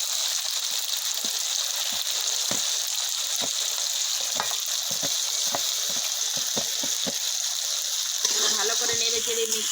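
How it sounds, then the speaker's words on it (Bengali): Garlic, ginger, chili and cumin pastes sizzle and fry in a hot wok, a steady loud hiss with scattered spatters and pops throughout, and a scraping stir near the end. "এখন কড়াইতে রসুন আর আদা পেস্ট দেওয়া হলো। রসুন আদা এটা আগে একটু কষানো হবে।"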